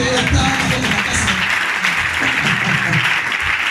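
A church congregation at a Sunday worship service breaks into loud, dense applause close by, with voices calling out over the clapping throughout.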